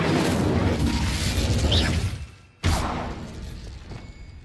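The Incendio fire spell bursts in Hogwarts Legacy, a roaring whoosh of flame with a dense low rumble that fades, then a second sharp blast quickly trailing off, loud and close with no voices.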